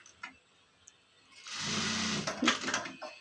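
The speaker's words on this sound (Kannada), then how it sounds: "ವರ್ಕು ಮಷಿನ್ಗೆ ಅಪ್ಲೋಡ್ ಮಾಡಿಬಿಟ್ಟು ಈಗ ಸ್ಟಿಚಿಂಗ್ ಮಾಡ್ತಾ ಇದ್ದೀನಿ" An embroidery or stitching machine works on a blouse piece in a tailoring shop, a faint tick before a loud, fast rattling run kicks in and continues with uneven bursts, close and alone.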